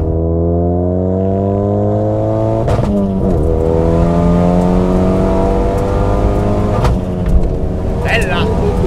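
Renault Megane RS 250 Cup with stability controls off, engine revving up through gears with stepped pitch rises, then braking hard, loud and close inside the car, with people talking over it.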